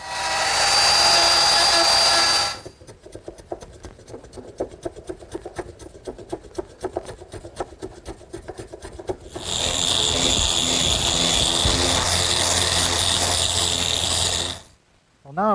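A router fitted with a 3/4 inch round over bit shapes wood, with two loud sustained high whining bursts of cutting separated by a stretch of quieter scraping and rasping, all close.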